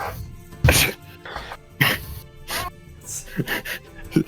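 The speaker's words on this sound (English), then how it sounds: "Sneezes." Several short, sharp bursts of breath, like a sneeze and throat-clearing noises, come in quick succession at close range against a faint murmur of background talk.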